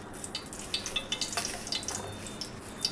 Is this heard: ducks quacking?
no